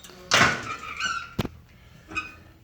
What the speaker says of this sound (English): These doors are a little bit loose.